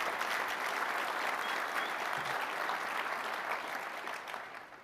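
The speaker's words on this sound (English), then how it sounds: "I just want to give a big thank you and a round of applause to the CyberArk team in the room" A roomful of conference attendees applauds in a thick, sustained burst that holds steady for several seconds and then begins to taper off toward the end.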